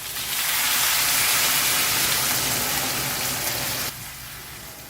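Water pours into a pot of kara kuzhambu curry with eggplant, potato and jackfruit seeds as a loud, rushing hiss for about four seconds, then drops to a quieter bubbling.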